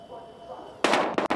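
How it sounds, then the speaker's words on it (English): Gunfire in the video game Battlefield Hardline: after a quiet stretch of low background noise, a loud burst of shots breaks out, followed by two more sharp bangs close by. "We've got gunshots."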